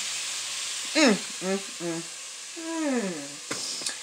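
Sausage sizzles in a pan with vegetables for a spicy succotash, a steady soft hiss broken by a few short squeaky, voice-like bursts close by.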